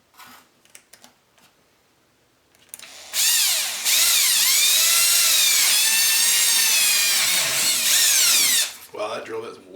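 Power drill whines loudly and steadily for about five seconds, its pitch rising and dipping as it bores through an enclosure for a guitar amp A/B switch box, with quiet handling clicks before and after.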